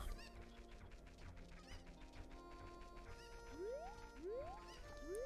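A cucco chicken in the Zelda Ocarina of Time game clucks repeatedly amid looping game music, with several rising squawks near the end, clear and moderately loud with no talking.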